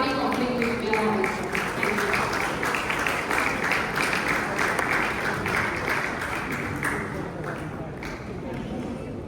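An audience at a real estate brokers briefing for a marina and yacht development applauds, a dense steady patter of clapping that stays loud before gradually thinning toward the end.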